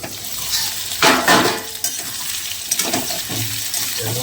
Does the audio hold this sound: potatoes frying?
yes